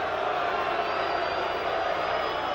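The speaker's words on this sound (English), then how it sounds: "And the crowd's getting a little restless because both fighters are trying to get a breather." A boxing arena crowd at a 1983 Marvin Hagler versus Roberto Duran fight murmurs and stirs in a steady, restless roar, with faint scattered shouts and no single standout cheer.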